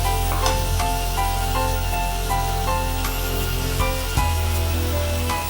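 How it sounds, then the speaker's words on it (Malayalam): Tomatoes sautéing in a pan for an anchovy side dish, with a steady close sizzle and occasional stirring scrapes running throughout, no talk. "ടൊമാറ്റോയും കൂടി ചേർത്ത് ഒന്ന് വഴറ്റാം."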